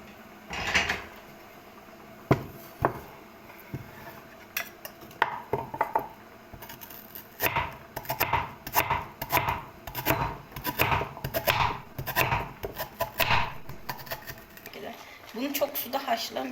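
Repeated sharp knife taps on a cutting board, quick and steady, close by, with a voice talking over parts of it.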